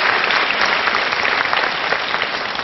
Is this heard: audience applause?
yes